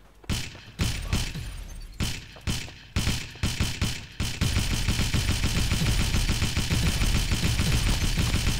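Gunfire in the mobile video game Pixel Gun: several separate sharp bursts, then a long unbroken stream of rapid shots, loud and close with no talk.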